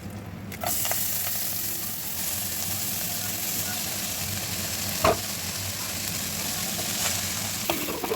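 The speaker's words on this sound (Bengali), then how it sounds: "এবার ওই ইলিশ মাছ ভাজার তেলটার মধ্যেই মানে কলমি শাকটা দিয়ে দেবো।" Water spinach frying in the oil left from frying hilsa fish, a steady close sizzle running the whole time with a few sharp clicks and scrapes of stirring in the pan.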